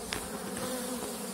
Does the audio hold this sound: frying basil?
no